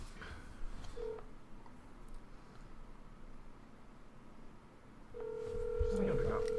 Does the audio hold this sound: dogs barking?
no